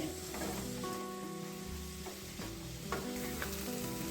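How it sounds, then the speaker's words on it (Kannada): Egg sukka masala frying in a pan while a spoon stirs it, with a close, bright sizzle and occasional scraping strokes over a low hum, no speech. "ಸ್ವಲ್ಪ ಹೀಗೆ ಸ್ಪೂನಲ್ಲಿ ಮಿಕ್ಸ್ ಮಾಡ್ತಾನೆ ನಾವು ಫ್ರೈ ಮಾಡ್ಕೋಬೇಕಾಗುತ್ತೆ"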